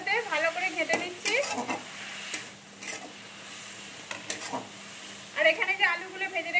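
Spices stirred through frying vegetables in a pan for milk cabbage, a soft sizzle under scraping spoon strokes, with someone speaking over much of it.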